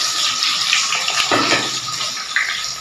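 Chopped onions and green chillies hit hot oil in a pan for okra sabzi, producing a steady, close, hissing sizzle with no talking.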